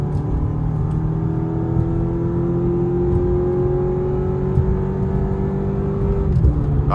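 A 2020 Audi S3 accelerates on a test drive, its engine note climbing steadily in a smooth continuous drone with a faint shift near the end, heard from inside the car.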